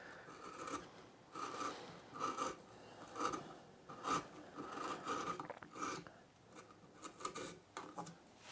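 A hand carving tool chamfers the edge of a cottonwood bark carving, producing repeated close, quiet rasping scrapes in a steady rhythm of short strokes.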